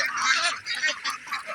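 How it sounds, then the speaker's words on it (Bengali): Farmed ducks calling in a loud, continuous chorus of overlapping honking quacks, close by in a rural setting with no speech. "আমি হাঁসগুলি লালন পালন করছি"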